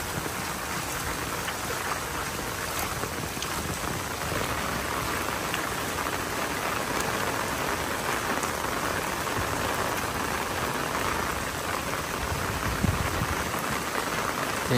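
Heavy rain pours steadily around a temple compound in Battambang, Cambodia, during flooding, a dense, even roar that holds unchanged throughout with no voices.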